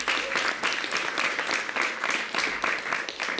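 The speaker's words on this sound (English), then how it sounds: "Let's clap for all of them." Audience applause at a mayor's press event on a council vote to close Rikers, a steady, fairly loud wash of clapping from a crowd that carries through without pause.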